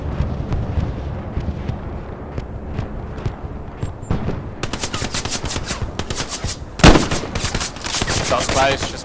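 Rapid machine-gun bursts and scattered rifle shots crackle through a Hell Let Loose battle at El Alamein, the fire growing denser and nearer midway, with one sharp close blast near the end and faint voices underneath.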